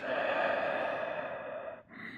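A long, steady breath exhaled during a yoga back-bend flow in camel pose, close and soft, with a brief dip near the end before the breathing resumes.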